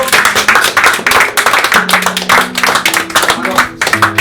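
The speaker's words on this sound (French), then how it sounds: "Je pense qu'on peut les applaudir chaleureusement." An audience applauds the young performers at the end of a show, a dense, steady round of clapping lasting several seconds with some voices mixed in.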